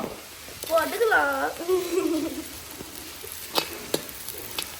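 Small shallots frying in sesame oil over a wood-fired stove, a steady close sizzle with brief louder crackles, partly overlapped by talking voices.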